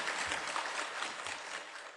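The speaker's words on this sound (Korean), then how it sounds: "수고하신 여러분들 위해서 우리 감사의 박수를 한번" A church congregation applauding in thanks for a football tournament team, a brief, soft, even patter of many hands clapping at a distance.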